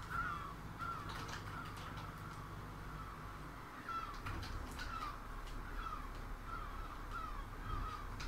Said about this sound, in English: Seagulls have gone mad.